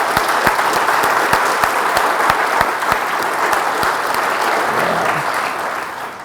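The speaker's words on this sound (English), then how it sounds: "I think they need a round of applause." Conference audience applauding the organizers at an Elixir developer conference, a full crowd of steady clapping with a few sharp close claps standing out, holding strong before gradually tapering off near the end.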